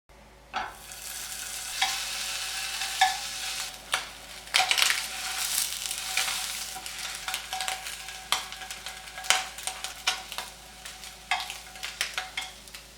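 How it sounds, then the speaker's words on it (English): Spam slices fry in a pan for sushi, a bright sizzle broken by scrapes and clicks as the pieces are moved and turned. The bursts and knocks come close and fairly loud over a steady hiss. "we're just going to go fry this in a pan for a few minutes"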